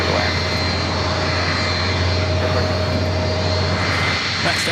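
Loud, steady roar of a jet airliner landing at Los Angeles International Airport, a constant engine drone with a low rumble, with a person talking over it.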